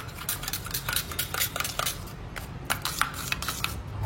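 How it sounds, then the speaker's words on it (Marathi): A spoon stirs peri peri masala into thick yogurt in a bowl, producing rapid close clinks and scrapes against the bowl in a steady rhythm. "पेरी पेरी मसाला आहे तो पण टाकते आणि चांगलं मिक्स करून घ्यायचं"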